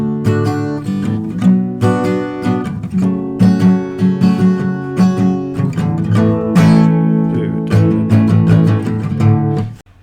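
An acoustic guitar strums the pattern for a song at full speed, with steady, busy down-up strokes, close and loud, with no voices, ending abruptly.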